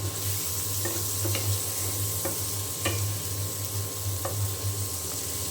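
Pointed gourd is stir-fried with beef and onions in a hot pan, giving a steady, loud sizzle with a few scattered clinks of the stirring spoon against the pan throughout.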